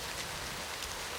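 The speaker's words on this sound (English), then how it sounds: "Rain!" Steady rain pouring outdoors along a walking route, a constant dense hiss of falling drops, fairly loud and even across the brief moment with no voices.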